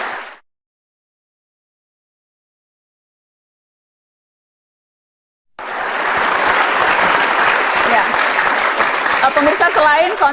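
Applause from a Mata Najwa talk-show studio audience for Mas Abdi swells abruptly after a silent gap, a dense, loud, sustained wash of clapping and cheers that carries on to the end.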